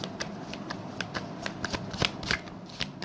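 Tarot cards being shuffled in quick, crisp riffles, a dense run of papery flicks and snaps close up, with a few louder slaps near the end and no talking.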